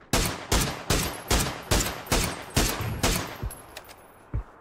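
Rapid burst of gunfire in a battle royale game, about eight evenly spaced loud shots followed by two sparser, quieter reports at the end.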